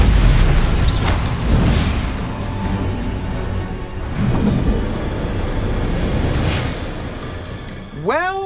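Spell-combat blasts in the Hogwarts Legacy video game, including a Confringo fire spell, heard as several booming bursts and whooshing effects amid game music, with someone shouting spell names over them.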